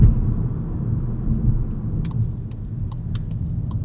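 A 2022 Volkswagen Jetta GLI with a 6-speed manual pulls hard in first gear, its engine a steady, loud low drone from inside the cabin, with faint clicks and rattles near the end.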